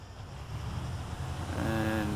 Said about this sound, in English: There he goes, starting up the engine